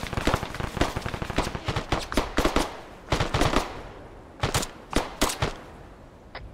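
Bursts of video game gunfire crackle in rapid, uneven volleys, sharp repeated shots clustering in quick runs with brief gaps, loud and close throughout.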